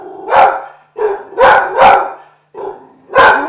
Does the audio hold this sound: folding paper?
no